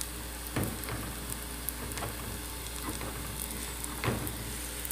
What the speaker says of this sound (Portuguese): Está fritando mais pãezinhos.